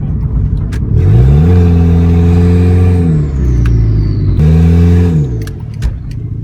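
A turbocharged Honda Civic engine revs loudly and close up, rising in steady pitch, holding, then falling before a second rev climbs and drops again, with brief sharp clicks over the throb.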